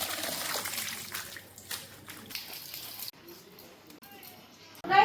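Water splashing and trickling in a bathtub filled for a morning bath, with pouring, dribbling and intermittent splashes close by, ending in a louder splash.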